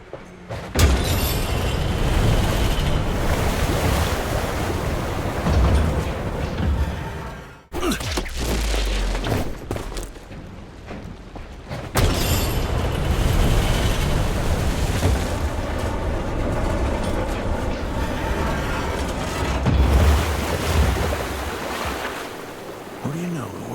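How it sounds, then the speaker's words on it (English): Water drains in a loud, continuous rushing surge through opened sluice gates in the Evil West video game. The roar holds steady for most of the stretch with a brief dip partway through, and a voice may talk faintly beneath it. "It worked. Water's going down."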